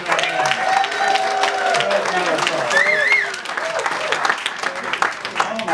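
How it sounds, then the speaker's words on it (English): A comedy audience aboard the Allure of the Seas cruise ship applauds a comedian, steady loud clapping with cheers and whoops filling the room while a voice speaks over it. "Give him a hand"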